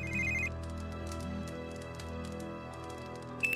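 A telephone rings in the video game Christmas Eve - Mitternachtsruf, a bright electronic ring heard near the start and again at the end over a low, steady musical drone.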